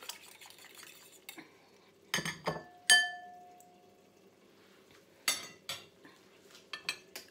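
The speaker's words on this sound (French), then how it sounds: "Il faut battre les œufs. Il faut bien mélanger." Eggs are beaten in a bowl for potato and chicken croquettes, with scattered clinks and scrapes of utensil against the bowl in short bursts, fairly close and quiet.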